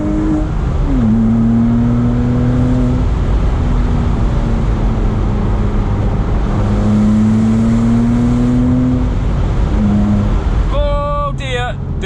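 A 987.1 Porsche Boxster S flat-six accelerates hard from inside the cabin, loud engine note climbing through the gears with shifts and a brief sharp rev near the end.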